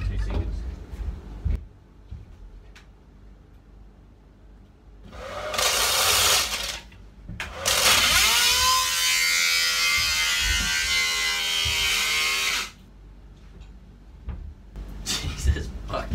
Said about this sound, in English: So this bilge blower, it's very noisy.